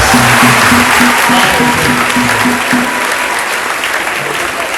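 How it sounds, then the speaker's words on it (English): Students at a college event clap together in loud, continuous applause, with a faint tonal pattern in the first few seconds that fades as the clapping carries on. "Please clap for yourselves."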